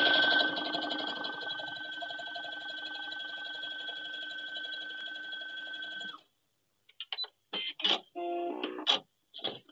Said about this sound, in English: I'm just going to sew along the edge.